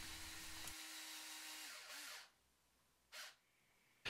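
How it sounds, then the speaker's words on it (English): A power drill bores a hole through a wooden fishing lure body, running steadily for about two seconds, then stopping, followed by two brief bursts of the drill a moment later. "drill a hole through the body of the bait and the lip"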